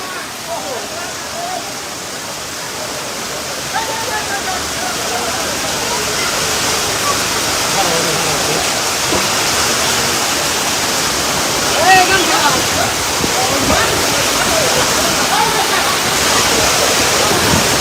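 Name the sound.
heavy rain pouring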